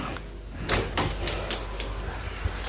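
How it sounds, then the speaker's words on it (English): Back door of a Cibeles-style villa opening with a couple of soft clunks and a latch rattle, close by and moderately loud, with no talking over it. "I'm going to go out the back door."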